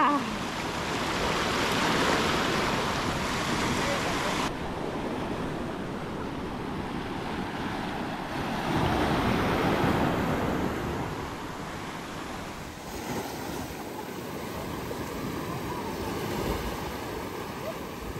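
Ocean surf at The Baths, Virgin Gorda, washes and roars continuously under red flag conditions, with waves breaking in surges and wind buffeting the microphone.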